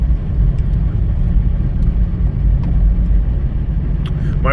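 A Kia Soul engine, just reinstalled along with its transmission, runs at a steady idle, a constant close low rumble with no talk over it.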